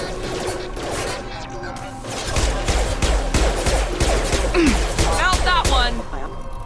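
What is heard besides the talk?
gunfire in the video game Mass Effect 2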